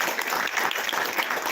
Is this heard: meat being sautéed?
no